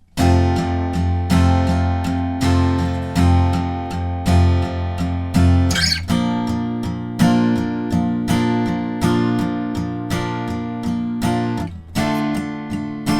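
Acoustic guitar playing a song verse, strummed with accented, harder strokes twice per chord in a steady rhythm, close and loud with no talking.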